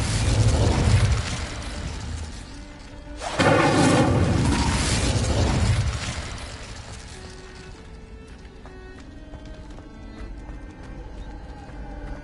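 Incendio fire spell cast in Hogwarts Legacy, a loud whooshing fiery burst in the middle that rises sharply and fades over about two seconds, preceded by other spell effects and followed by quieter game ambience.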